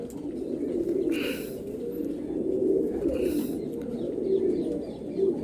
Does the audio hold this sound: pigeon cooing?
yes